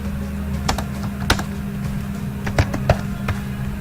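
Keys clatter on a computer keyboard as code is typed, a quiet run of irregular clicks with a few sharper taps over a low steady hum, no voices.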